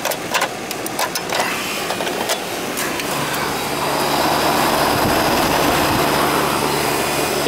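Old central air conditioner unit starting up, clicks and rattles giving way to a steady mechanical hum and whir that settles into a constant drone, close by.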